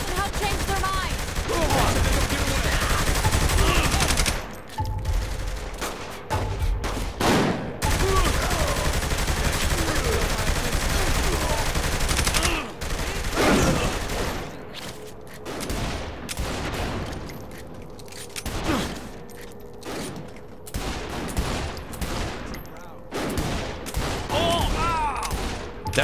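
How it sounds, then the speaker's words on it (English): Heavy gunfire in Saints Row 3, long rattling automatic bursts and scattered shots broken by short pauses, loud and close, with someone talking over parts of the shooting. "Shooting them probably doesn't help change their mind."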